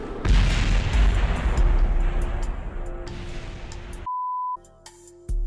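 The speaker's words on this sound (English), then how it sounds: "it simply burns out of control and eventually blows up" An uncontrolled rocket without its probe core explodes in Kerbal Space Program: a long, loud, rumbling blast that fades over several seconds and then cuts to a steady electronic beep and quieter tones.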